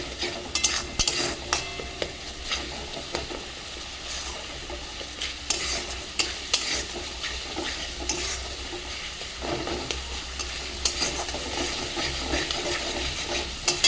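Turmeric, chili powder and water fry in a pan for egg curry, a soft sizzle running underneath while a utensil stirs and scrapes in repeated, irregular strokes.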